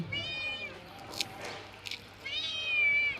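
Cats meow at feeding time while being given chicken: one drawn-out, close meow at the start, a few soft clicks and shuffles, then another long, louder meow at the end.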